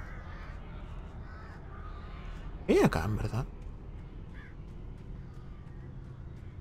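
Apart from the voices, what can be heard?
crows cawing in Alan Wake video game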